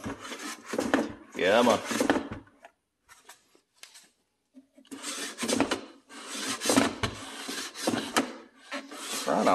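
An air fryer basket holding crispy chicken thighs scrapes and rubs as it is shoved back into the air fryer in a few close, rough bursts separated by brief quiet, with a voice briefly speaking.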